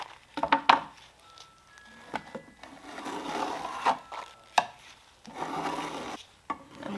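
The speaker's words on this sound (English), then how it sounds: "It's all bubbly, and now you just gotta scrape it off." A scraper is pushed gently through bubbled paint stripper on a mid-century modern furniture base, giving close, rasping scrapes in repeated strokes, with sharp taps between passes.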